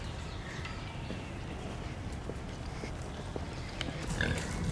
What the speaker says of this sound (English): we have found a massive fat pig.